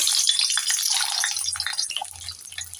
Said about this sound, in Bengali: এবার সেদ্ধ রাখার ডিমগুলোকে ভেজে নেব